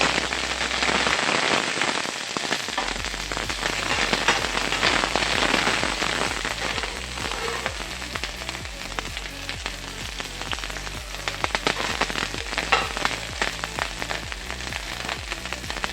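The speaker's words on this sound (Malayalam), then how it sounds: "കടുക് പൊട്ടിക്കഴിഞ്ഞു ഇനി അതിലേക്ക് പച്ചമുളക് ചേർത്ത് കൊടുക്കാം" Green chillies hit hot oil with popped mustard seeds, a loud, dense crackling sizzle that starts abruptly and continues close up, with sharp spatter pops scattered through.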